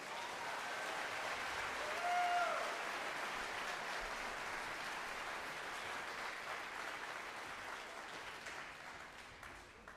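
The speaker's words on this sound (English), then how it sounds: "Let's give one more round of applause for that 8th grade band." Steady audience applause in a school auditorium after an 8th grade band's concert performance, many hands clapping continuously for about ten seconds at an even, moderate level with a faint voice briefly surfacing.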